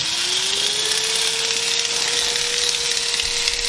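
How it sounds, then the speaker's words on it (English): A rebuilt, formerly seized 1829 electric motor runs steadily, a continuous whine that rises slightly in pitch as it spins up, close and alone with a bright hiss over the hum. "Now I hook up the power and turn it on."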